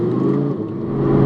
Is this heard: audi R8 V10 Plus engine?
yes